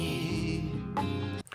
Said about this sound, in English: So listen to the guitar in the background.